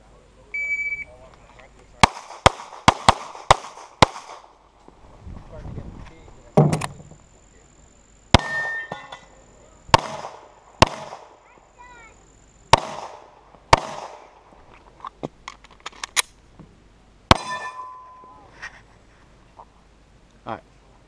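A pistol fires in quick strings of sharp, loud shots during a practical shooting match stage, with bursts of shots split by short pauses, a timer beep, and voices nearby.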